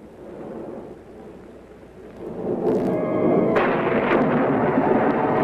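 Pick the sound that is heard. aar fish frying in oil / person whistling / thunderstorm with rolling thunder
thunderstorm with rolling thunder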